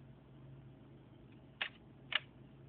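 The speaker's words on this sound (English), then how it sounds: "to show you that the shutter still works." A Zeiss Ikon Nettar 120 folding film camera fires its shutter twice, giving two short, crisp mechanical clicks about half a second apart over a faint steady hum, with no talking.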